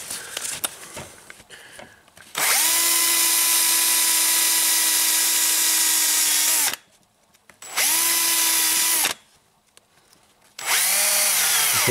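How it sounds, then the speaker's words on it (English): A power drill bores into a Toyota Camry engine part in a repair, whining steadily at high speed in loud, sustained bursts that stop and restart three times with brief pauses between. "I should increase the speed of my drill."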